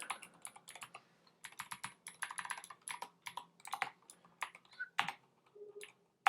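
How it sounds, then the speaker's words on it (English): Typing on a computer keyboard while coding a personal website, irregular bursts of close, crisp key clicks with short pauses between words, no talking. "Let's type everything down."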